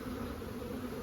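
Honey bees hum around a beehive, giving a continuous, fairly close drone with a faint steady pitch that holds without a pause.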